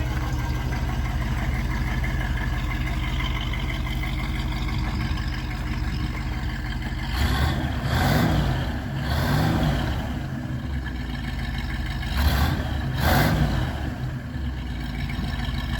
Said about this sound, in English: I'll rev up the engine a couple of times.